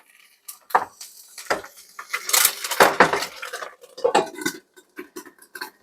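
Spatula scraping and sliding a microwave-poached egg around in a dish, close clinking and scraping strokes in irregular bursts, no talk.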